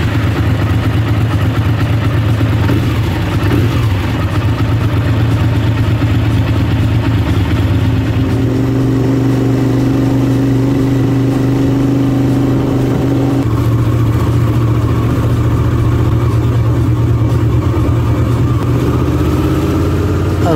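Motorcycle running on a short test ride after a voltage regulator replacement, with a steady mid-pitched engine drone that shifts tone as speed changes and stays continuous and close throughout.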